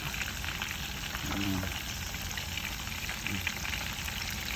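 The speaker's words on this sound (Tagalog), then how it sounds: "nagpiprito po ako ng isda dito sa labas" Fish frying in a pan of oil outdoors gives a steady, dense crackling sizzle throughout, fairly close, with a faint low voice briefly underneath.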